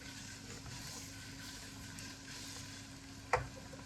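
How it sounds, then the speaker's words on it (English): Steady, close sizzling of king prawns frying in hot oil, a constant hiss throughout with one brief clink near the end. "I'm going to start off by frying my king prawns"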